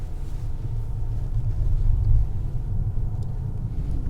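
An armored 2022 Mercedes S680 Guard with a V12 engine drives on a punctured tire, heard from inside as a steady, muffled low road-and-engine rumble with no one speaking.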